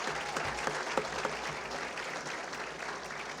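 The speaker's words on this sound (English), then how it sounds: "Join me in applauding and thanking them for being here with us today." An audience at a regional civic event claps steadily, a dense, even wash of applause from a crowd, moderately loud throughout.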